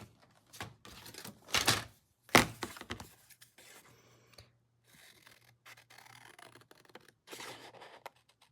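A piece of wood is cut by hand in a few loud, sharp rasping strokes up front, followed by quieter, intermittent scraping and scratching alone.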